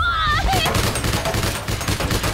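In APB Reloaded, loud rapid bursts of gunfire crackle in dense, closely spaced volleys, with a voice briefly heard near the start.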